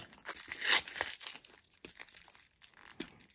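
A package of scrapbooking supplies being opened, with close, uneven bursts of plastic crinkling and a short sharp tearing rip near the start, then quieter scattered rustles and crackles.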